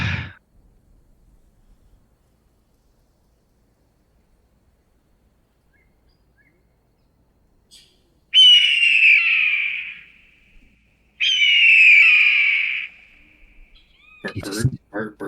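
Two sustained, loud bird cries from a sound effect play in a tabletop role-playing game session, each lasting over a second with a short gap between, followed by a burst of voices.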